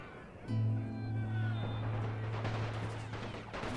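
Rumbling gunfire and artillery in the First World War strategy game The Great War 6.0, a sustained low roar of distant shots and booms running almost continuously under a steady droning hum.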